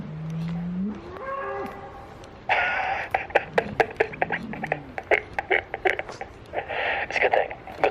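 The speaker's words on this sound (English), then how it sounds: "Because cows, you think they just moo," A cow gives a low drawn-out moo, then a loud odd whooping, warbling call, followed by repeated sharp vocal bursts; close and prominent, with no talk over it.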